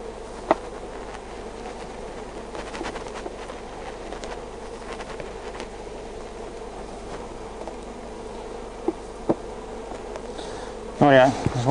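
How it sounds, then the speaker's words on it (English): Honey bees buzz steadily around an open top bar hive, a close, continuous insect drone with scattered individual bees passing near, plus a brief clattering handling sound near the end. "Push the bees off."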